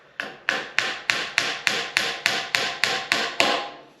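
Steady hammer blows on a nail, about eleven sharp strikes in an even rhythm, each ringing briefly before the next, close and clear.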